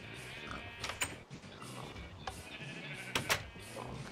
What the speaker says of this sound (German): Vorab noch ein Schaf gesehen, was ich jagen wollte.